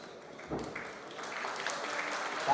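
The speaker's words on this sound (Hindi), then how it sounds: "तालियां एक दफा और हो जाए।" Applause rises from a gathering at a school alumni meet, starting sparse and swelling into a fuller, steady clatter of many hands, with voices mixed faintly into the noise.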